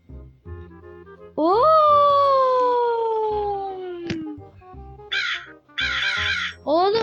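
A loud, drawn-out synthetic crow caw in the game Granny slides downward in pitch, followed by shorter cawing bursts and clicks from game audio.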